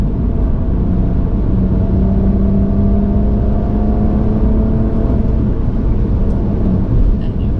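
A manual 2009 BMW 135i accelerates smoothly, a steady loud engine drone with a rising tone running continuously under road and cabin rumble.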